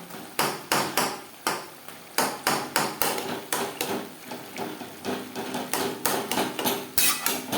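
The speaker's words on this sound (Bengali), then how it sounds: "খুন্তির সাহায্যে লঙ্কাগুলো এভাবে একটু ম্যাশ করে দেবো" A spatula repeatedly strikes chillies with prawns in a pan, a rapid series of sharp, loud clacking knocks in irregular bursts, close and alone.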